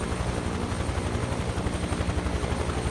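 A helicopter in Microsoft Flight Simulator flies steadily with a loud, continuous rotor thump and engine drone throughout, with no voices over it.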